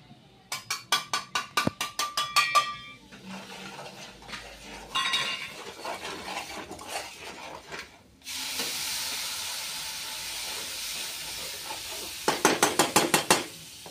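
Ground spice masala from the mixer frying in hot oil with curry leaves over a lowered gas flame: quick rhythmic metal clinks of a spoon against the pan, then a steady close sizzle, and a final burst of clinks.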